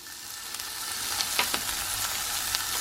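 Onions sautéing in a pan give a steady, close sizzle throughout, with a few faint stirring scrapes on top and no voices.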